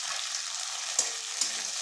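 Onions and raw green tomato sizzling together in a pan for puti fish curry, a loud continuous close hiss broken by two brief scraping stirs, with no talking.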